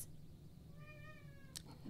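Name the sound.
cats meowing in the background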